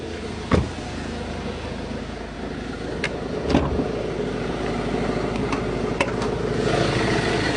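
A classic car's engine runs while the car is moved, giving a steady, moderately loud hum with a few sharp clicks and knocks scattered through it.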